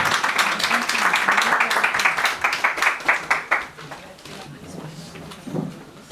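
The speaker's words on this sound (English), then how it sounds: "Let's give a round of applause to Rav Yitzhak Finger." Loud audience applause at a community game show event, dense rapid clapping that swells and then fades out over several seconds, with a voice briefly audible at the end.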